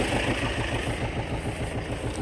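A T-25 tractor engine idling in a field, a close, steady low chugging rumble with even rhythmic pulses and no voices.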